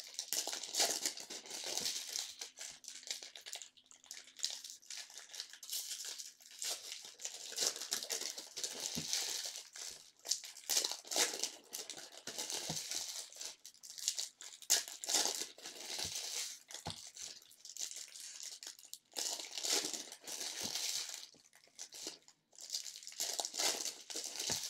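Sports card packs being torn open, close crinkling foil and ripping wrappers in irregular bursts with brief pauses between them.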